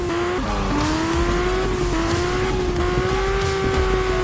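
A prototype BMW M3 race car in Juiced 2 screams at high revs, its steady engine whine sliding through gear changes, loud and close, with faint tire noise beneath.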